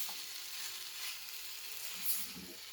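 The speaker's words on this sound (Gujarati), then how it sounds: "હળદરની ક્વોન્ટિટી થોડી ઓછી થાય ત્યાં સુધી આપણે હળદરને ઘી સાથે આ રીતે ચલાવતા રહીશું." Grated fresh turmeric fries in ghee in a heavy pan, making a soft, continuous sizzle with occasional light stirring scrapes, quiet and steady with no one talking.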